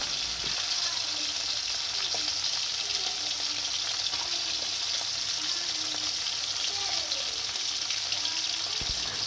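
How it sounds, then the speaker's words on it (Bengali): Hilsa fish pieces rubbed with salt and turmeric frying in hot oil, giving a loud, steady, continuous sizzle with a few faint clinks underneath. "এবার একে একে কয়েকটা মাছ ভেজে নেব"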